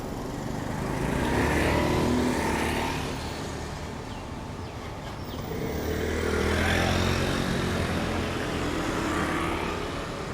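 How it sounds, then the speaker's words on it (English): Motor traffic rolls through narrow lanes in the Nimman area of Chiang Mai: a steady wash of car and motorbike engines swells twice as vehicles pass close by, with no talking. "Crazy, even traffic in the little streets"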